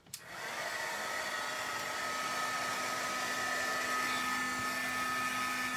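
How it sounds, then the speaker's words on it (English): A heat gun blows a steady, loud, continuous whoosh while melting gold embossing powder on a stamped dragonfly card, starting abruptly and holding constant throughout. "now it will be a little bit noisy here from my heat gun"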